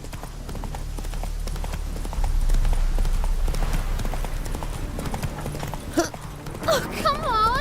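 Roach the horse gallops in The Witcher 3, with rapid rhythmic hoofbeats close and loud throughout, a brief whinny near the end, and a voice speaking over it.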